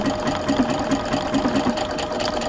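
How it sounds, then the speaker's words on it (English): A sewing machine stitching a buttonhole, its needle running in a fast, even mechanical rhythm with a steady whirring motor hum, close and continuous throughout. "It then does the buttonhole stitch over top"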